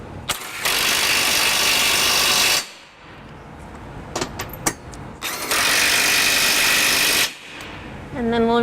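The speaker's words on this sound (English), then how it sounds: "we're going to use our electric drill and a deep 22mm socket to just snug them down" A power drill with a deep 22mm socket snugs bolts in two sustained bursts of a couple of seconds each, separated by quiet clinks and small metallic handling sounds.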